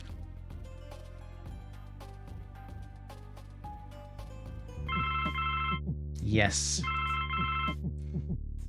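Telephone ringing in the Blackwell Legacy adventure game, two bursts of bright electronic ringing over background music, with a brief spoken word between them.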